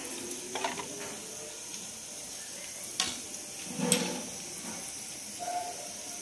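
Ginger-garlic paste hits hot oil with green chillies in a pan for mutton biryani, giving a light, steady sizzle with scattered clicks and scrapes of stirring, fairly quiet and without talk.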